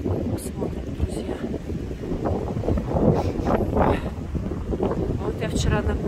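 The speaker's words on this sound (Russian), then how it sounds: "Так, ветер сильный." Strong wind buffets the microphone in a steady low roar on the Novorossiysk waterfront embankment, with gusty surges throughout and faint voices now and then.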